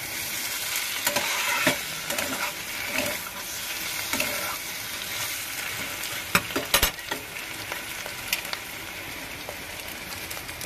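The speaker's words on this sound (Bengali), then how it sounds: "দিয়ে এবার একটু ভালো করে নেড়ে নিচ্ছি।" Mushroom curry being stirred in a pan, a steady sizzling and scraping with intermittent clicks and clinks of the utensil against the pan, close and moderately loud with no talking.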